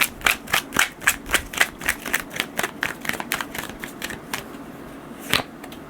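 Tarot cards are shuffled in a rapid, rhythmic run of crisp riffling slaps that gradually softens, followed by a single sharper snap as a card is drawn.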